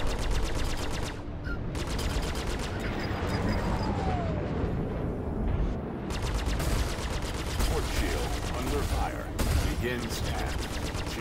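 A spaceship takes sustained gunfire in Star Citizen, with dense continuous impacts and weapon bursts forming a loud, unbroken barrage that runs from start to end.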